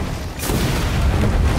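A single loud explosion in the video game Flintlock bursts suddenly and then rolls into a sustained low rumble.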